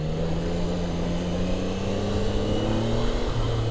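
A Triumph Daytona 660 motorcycle engine hums and builds as the rider sets off, a close, steady drone with rising pitch and a brief shift near the end.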